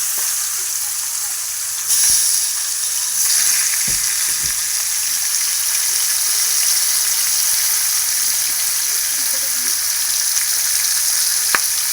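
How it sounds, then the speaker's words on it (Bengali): Marinated chicken pieces frying in hot oil for biryani, giving a loud, continuous close sizzle with a few light knocks and stirring clinks, no talking. "এবার এই মাংস ম্যারিনেট করা মাংসটা ভেজে নেব তেলে।"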